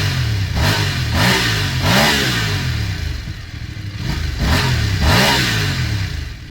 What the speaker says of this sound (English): let's listen to this beautiful parallel twin engine